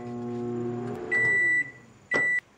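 A microwave oven heating a metal washer beside a petri dish gives a steady low electrical hum for about a second, then two loud, clear beeps, each lasting a few tenths of a second, with a short gap between them.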